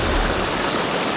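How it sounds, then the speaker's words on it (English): Fast-flowing water of the Little River, a mountain stream in the Great Smoky Mountains, rushes loudly and steadily in a dense, close roar with no voices. "It's going to be pretty tough, fast water. It's going to be loud when I get up here"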